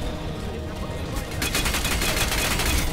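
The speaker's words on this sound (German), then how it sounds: "Aber der meint ja auch immer auf mich schießen zu müssen." Enemy gunfire aimed at the player in Crysis 2, a rapid fusillade of shots that thickens and grows louder partway through and continues to the end.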